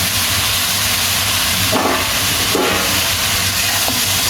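Loud, steady sizzle and hiss of a spice paste frying in a pan as fried meat for a roast is added, with a couple of brief bursts of louder crackle partway through; no talking.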